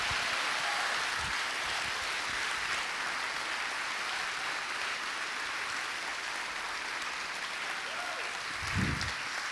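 A church congregation at a large Christian conference applauds steadily, a dense wash of many hands clapping at an even level for the whole stretch, with no voices standing out.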